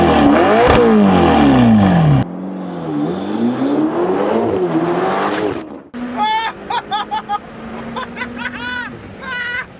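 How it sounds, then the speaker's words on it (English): A Ferrari GTC4 Lusso with an aspirated V8 revs hard and pulls away, loud rising and falling engine notes close by, with shifts and surges, ending in choppy bursts and whistling tones. "if you ever get a chance to ride in a Ferrari, and in particular the one that I was riding, GTC4 Lusso with the V8 aspirated"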